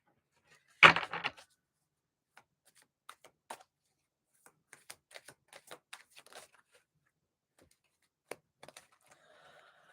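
Playing cards shuffled at a table, one loud riffle burst followed by a scattering of faint, irregular clicks and taps in an otherwise quiet room.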